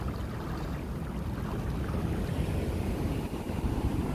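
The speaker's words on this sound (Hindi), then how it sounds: "अगर थोड़ा पानी और आ जाएगा तो इसके ऊपर से उतर जाएगा पानी। और बहाव काफ़ी तेज़ है।" Fast-flowing water of the Upper Ganga Canal rushing at a weir near Bulandshahr, a steady, dense roar that holds unbroken and fairly loud throughout, with no voices.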